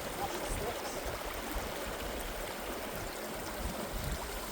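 Boots being washed in a stream on a hike in the Peaks: a steady, even rush of flowing water fills the scene with no distinct splashes standing out.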